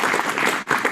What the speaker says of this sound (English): let's give another huge round of applause for His Grace Mahatma Prabhu